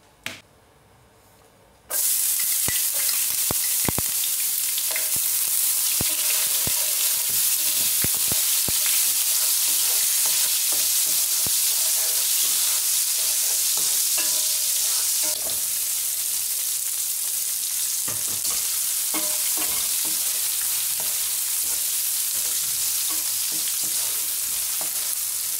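Cooking oil crackles and spits in a pan for sautéed long beans with chicken and salted egg, starting with a brief quiet moment before a loud steady sizzle takes over with scattered pops throughout.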